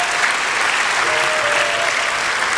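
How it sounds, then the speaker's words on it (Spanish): A church congregation applauds during a Spanish-language sermon, a loud, even wash of many hands clapping continuously and close by. "Dar un aplauso al Señor."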